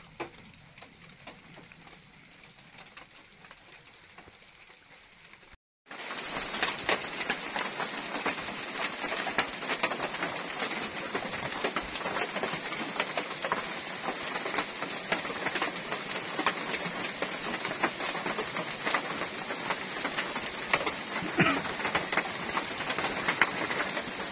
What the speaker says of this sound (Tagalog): Yan, ulan na.